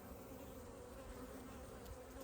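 A dense, steady drone of many honeybees buzzing around an open hive during a fall inspection, continuous and close, with no talking.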